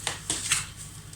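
A deck of tarot cards is cut by hand in a quiet room, giving three short, soft riffling card sounds close by with brief pauses between them and no talking.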